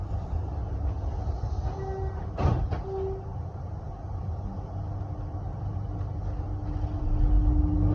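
Melbourne metro train pulling away from Glenferrie station, heard from inside: a steady low rumble and hum of the carriage with a brief squeak and clunk partway through, then the drone swelling as it gathers speed.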